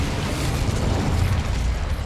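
A fire spell cast in a wizarding video game bursts out as a loud, continuous roaring blast of flame, dense and rumbling throughout.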